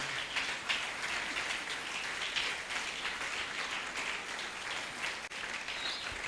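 A church congregation applauds and cheers for the king, a steady wash of clapping that carries on evenly throughout at moderate distance, with no clear voices standing out.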